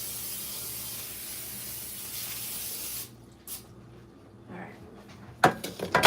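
A steady broad hiss of aerosol cooking spray sprayed onto a baking pan runs for about three seconds, followed by quieter clatter and a few sharp knocks near the end.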